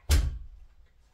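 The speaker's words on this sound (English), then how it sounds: "I'm gonna shut the door." A door is shut indoors while a dog barks elsewhere in the home: one solid close thud at the start, then a short fading rumble and quiet.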